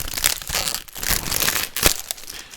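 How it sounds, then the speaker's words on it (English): Crinkling cellophane being peeled off a perfume box, a close, continuous rustling and crackling with a few sharper crunches. "Okay, so we're peeling off the cellophane."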